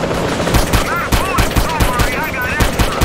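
Rapid bursts of gunfire from a GTA game running an Ant-Man and Wasp mod, loud, repeated shots cracking over a busy mix of effects, with a voice faintly present beneath.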